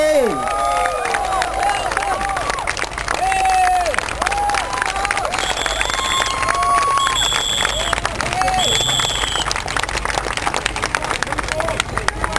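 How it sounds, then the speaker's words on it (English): A large crowd at an outdoor political election rally in Singapore claps and cheers steadily and loudly, while amplified voices and shouts rise above the dense applause. "Can we give them a hand of applause for the Marine Parade GRC team for NSP?"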